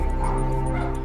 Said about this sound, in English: And it's chaos as Matt and his team start to catalogue and remove over 20 dogs being kept in separate pens and outhouses